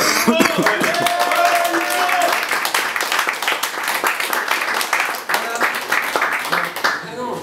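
An audience applauds Nico at a film episode premiere in a café-cinema, dense clapping filling the room and continuing steadily with voices and cheers mixed in.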